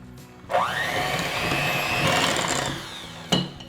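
An electric mixer whirs through vanilla extract and an egg for gingerbread cookie dough. The motor spins up quickly and holds a steady whine for about two seconds, then stops, with a short clatter at the end.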